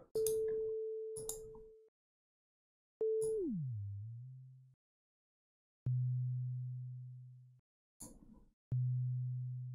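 A tiny sine wave oscillator module in VCV Rack plays a pure, steady tone in separate bursts: several held notes at one pitch, one sliding down to a lower pitch, then longer low sustained tones with short gaps of silence between them.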